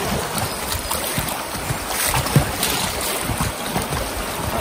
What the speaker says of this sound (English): I wasn't expecting this next section of rapids, so we'll see